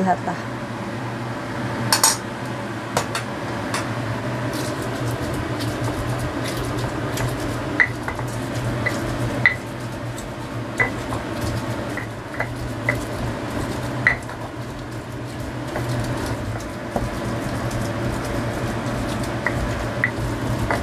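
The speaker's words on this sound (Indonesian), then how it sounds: "sekarang mau menggerus bumbunya yang ini ya teman-teman. Bawang baik, bawang jahat, sama cabai" Onions, garlic and chili being ground in a stone mortar for rica rica, with repeated clacks and scrapes of the pestle against stone and wet squishing, steady and close with a low background hum.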